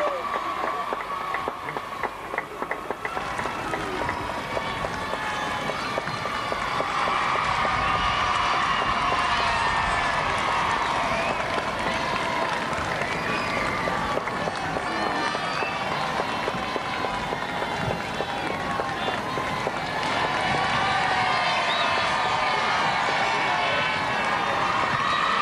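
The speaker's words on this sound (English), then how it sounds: "Mistaking spontaneous applause, and this is the real thing." A vast crowd in a Welsh town square at the 1969 investiture of the Prince of Wales applauds and cheers continuously, a dense roar with whoops that swells after a quieter start.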